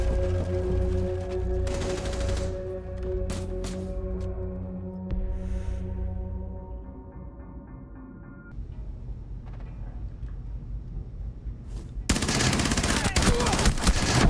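Rainbow Six Siege gunshots ring out in bursts over a dense, humming in-game background, with a louder, harsher burst of fire closing the stretch.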